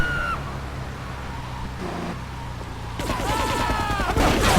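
Submachine gun fire in GTA3 rattles in rapid bursts over a running car engine, growing louder and denser toward the end, with no talk.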